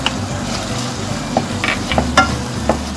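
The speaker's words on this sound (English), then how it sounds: "after that, we're gonna throw in our Thai chili peppers" Thai chili peppers tossed into Cambodian prahok ktiss pork dip frying in a pan give a steady, close sizzle, broken by a few sharper scrapes and stirs.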